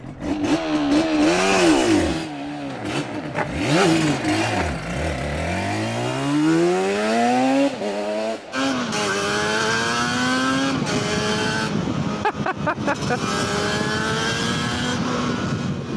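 A Yamaha TDR 250 two-stroke motorcycle on the move, its engine revving up and down through gear changes with a rising and falling buzzy wail, loud and close throughout.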